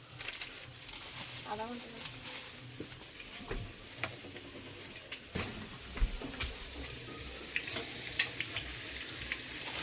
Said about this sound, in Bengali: আলু ভাজা হয়ে গেছে